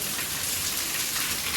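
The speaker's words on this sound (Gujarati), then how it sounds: "પાણી પાણી વરસાદ પડે છે ધમ ધમ" Heavy rain pours down steadily in a continuous dense hiss, close and even throughout, with no voices.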